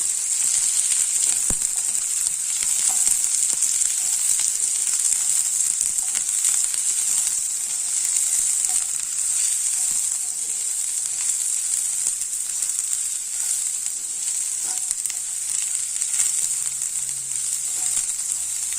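Onion, capsicum and carrot frying in a pan on the stove, giving a continuous bright, hissing sizzle with faint stirring clicks, steady and close, with no voices.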